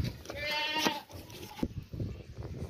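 A tall, castrated two-tooth male goat offered for sacrifice at a livestock sale gives a loud, close bleat or two over a murmuring outdoor background.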